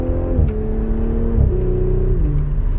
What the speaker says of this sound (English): This is downshifting, but it's pretty quick. And then you go to accelerate.